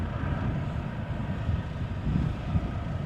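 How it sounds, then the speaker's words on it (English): An EasyJet Airbus A320neo arriving from Geneva on approach to the centre runway at Amsterdam Schiphol: a steady, broad low engine roar with some wind rumble, moderately loud and continuous throughout. "A320 Neo from EasyJet arriving from Geneva, approaching the center runway"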